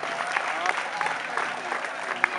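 A crowd at a sports field applauds local councillors during a 3 May celebration in Wejherowo: a short burst of steady clapping at moderate distance, with a voice over a loudspeaker.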